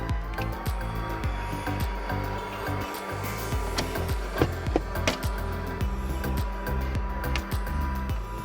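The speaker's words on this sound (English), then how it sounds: "Now we can flick the switch and the awning will retract." An electric awning on an MDC Forbes 12+ offroad caravan retracts with a steady, close mechanical whir and scattered clicks and knocks throughout.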